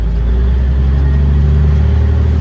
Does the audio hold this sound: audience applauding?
no